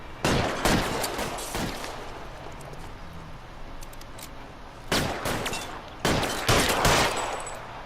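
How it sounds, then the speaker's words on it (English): Gunfire rings out in a shootout in the L.A. Noire video game: loud, close bursts of several rapid shots, then pauses, then more volleys with echoing tails and no talk. "I don't choke this bad in shootouts."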